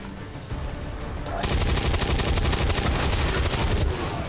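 A shot in the video game XCOM 2 bursts into loud, sustained gunfire, rapid repeated reports rattling on for about three seconds after a quieter lead-in.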